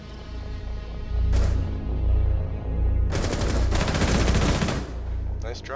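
Rapid automatic gunfire in the Rainbow Six Siege video game on a skyscraper map, bursts of fast shots and a sharp single crack, loud and close over a steady game background hum.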